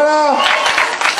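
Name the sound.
audience applause at a cosplay contest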